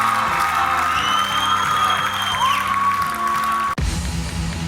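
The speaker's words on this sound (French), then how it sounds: "Applaudissements pour Anthony, mesdames, messieurs." Studio audience on the Réunion TV talent show Runstar applauding, cheering and whooping for contestant Anthony, a steady loud crowd roar over music with sustained tones, cut off abruptly near the end.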